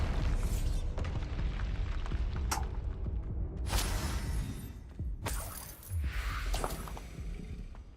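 A Bombarda spell goes off in a Harry Potter video game: loud blasts and shattering crashes erupt several times over a heavy, continuous low rumble.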